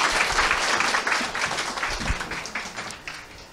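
Audience applause at a promotion celebration ceremony, dense steady clapping from a crowd that slowly thins out.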